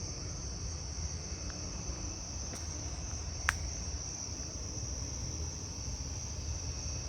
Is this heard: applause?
no